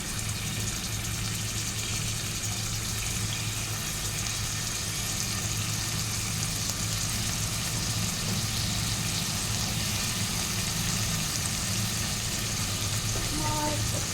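Tomato, potato and mixed vegetables fry in oil for veg pulao, giving a continuous even sizzle with faint stirring, no talking over it.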